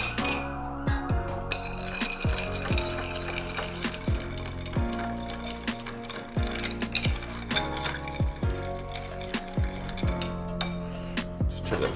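A tequila cocktail stirred over ice in a mixing glass, a continuous close clinking and rattling of ice against glass with a busy, rhythmic churn.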